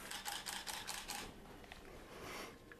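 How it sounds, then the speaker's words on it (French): A camera shutter fires a rapid self-timer burst of six photos, crisp evenly spaced clicks at close range followed by faint quieter mechanical ticks. "le timer, en fin de compte, il va me prendre 6 photos"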